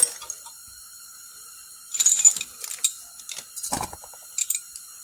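A socket ratchet clicks in short irregular bursts underneath a 2003 Toyota Sienna, turning a catalytic converter fastener; close, dry metallic pawl ticks come in scattered clusters over a quiet background.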